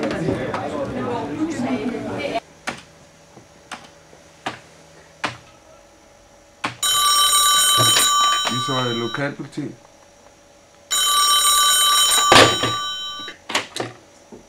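A telephone ringing tone on a call sounds in two long, loud, buzzy bursts, separated by a pause with scattered clicks, after someone speaks nearby.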